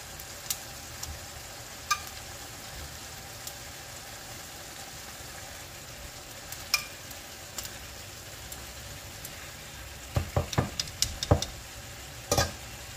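Fried spare ribs sizzle in a pan with cooked tomatoes, a steady low hiss with a low hum beneath it and scattered clicks, then a cluster of sharp knocks and scrapes near the end.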